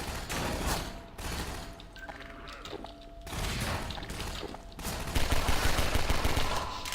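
Gunfire from the pistol in the video game Half-Life 2, a dense stream of game sound with shots and bursts firing over a busy background, loud and continuous for several seconds with no talking.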